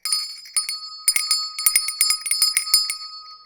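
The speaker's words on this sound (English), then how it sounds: "Here's the bell." A small handbell is rung in a streamer's workshop in a quick irregular flurry of bright metallic dings, about a dozen strikes close to the mic, with no talking.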